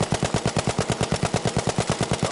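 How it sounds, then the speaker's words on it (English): A Sten submachine gun firing in Battlefield V, a fast, steady burst of loud, evenly spaced shots rattling continuously for about two and a half seconds with no pauses. "A much more significant recoil upwards with the Sten."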